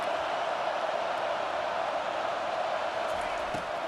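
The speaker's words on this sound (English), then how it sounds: "Listen to this crowd just shaking the girders of this place trying to help their defense." Stadium crowd roaring in the college football game EA Sports College Football, a steady, dense wall of cheering and noise held at even loudness throughout, with no break or single voice standing out.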